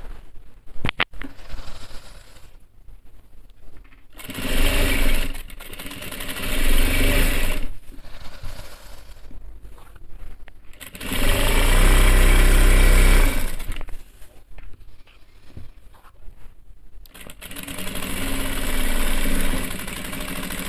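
An electric sewing machine runs in bursts while stitching the shoulder edge of a men's kameez. The motor whirs loudly in several long runs with short pauses between them.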